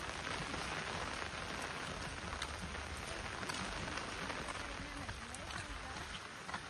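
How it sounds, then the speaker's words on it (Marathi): Steady rain falls on a road in rural Konkan, a dense, even hiss that carries on for the whole stretch, with faint voices mixed in. "चलतात पाऊस पण भरपूरच लागता"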